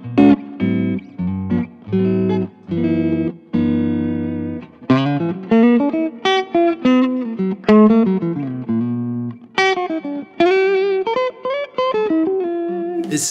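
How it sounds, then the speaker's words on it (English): A Stratocaster electric guitar plays a jazz-style phrase through reverb: clean, separate chords and single notes, close and clear, with short gaps between them and no speech. "There's a very specific Strat jazz sound."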